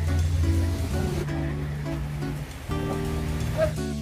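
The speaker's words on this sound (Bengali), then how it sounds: "ভাই প্রচন্ড পরিমাণে বৃষ্টি শুরু হয়ে গেছে।" Heavy rain pours during a group motorcycle ride from Dhaka to Nikli in Kishoreganj, a steady broadband wash of water with a low engine drone underneath, loud and continuous throughout.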